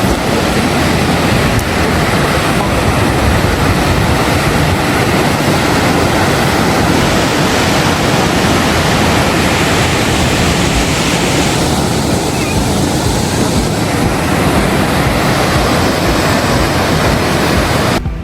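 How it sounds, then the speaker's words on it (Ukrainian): Loud, steady roar of Lepreau Falls in New Brunswick, a dense wash of rushing water close by, with no voices. "І наступне місце, щоб побачити водоспад ну, прямо в усій його красі, максимально близько."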